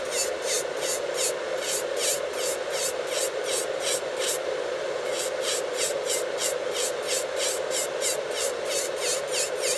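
An electric nail file bit grinding a fingernail thin, a steady whir with a fast pulsing rasp of regular strokes, briefly pausing midway and then continuing close up.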